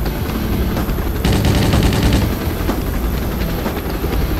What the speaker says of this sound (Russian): Кто-то там явно шмалит из пулемета.